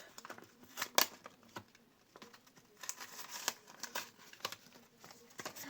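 Paper surprise packets being ripped open by hand, with close, irregular bursts of tearing and crinkling paper and one sharp rip near the start, alone and fairly quiet.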